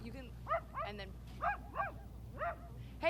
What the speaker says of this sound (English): You're hearing some puppies because it's going to be a big day over in church, guys. A wiener dog derby.